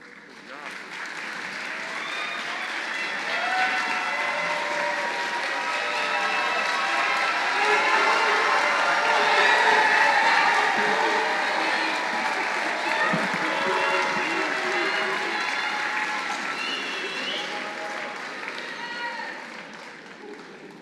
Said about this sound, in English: y'all just wasted that applause